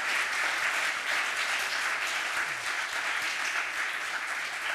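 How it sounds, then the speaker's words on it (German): The studio audience of a German football talk show claps in a dense, even wave of applause that carries steadily at full strength for the whole few seconds, with no talking over it. "Das ist die Stelle, wo das Publikum normalerweise applaudiert."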